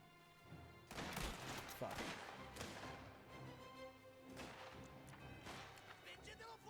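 Gunfire cracks through a gunfight in Mafia: The Old Country, several sharp shots and bursts ringing out over game sounds, with a player talking over parts of the action.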